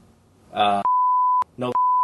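Two steady electronic censor beeps, a long flat tone cutting over a voice twice, with short snippets of speech just before each.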